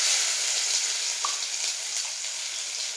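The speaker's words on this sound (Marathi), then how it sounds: "हा सर्व मसाला तेलात घालून घ्या." Ground spice masala sizzles in hot oil in a pan after a mustard and cumin tempering, a steady close hiss of frying with no voices.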